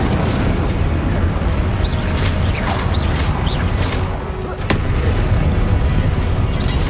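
Confringo fire spell blasts in the Hogwarts Legacy video game, a dense run of booming explosive bursts and crackling impacts piling up over steady battle noise, loud and continuous with a brief dip near the middle.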